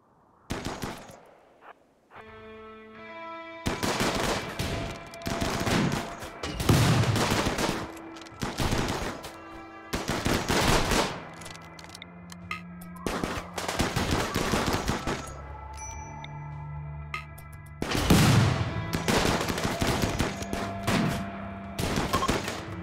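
Bursts of automatic gunfire and launcher blasts from raiders' weapons in the video game RimWorld, rattling in repeated volleys of rapid shots across the whole stretch, loud and continuous with only short pauses, no talk.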